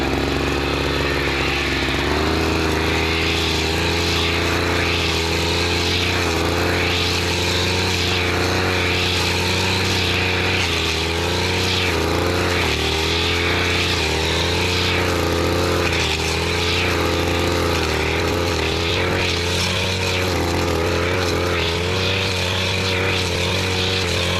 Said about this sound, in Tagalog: Bali, ito na lang po ang ating grass cutterin.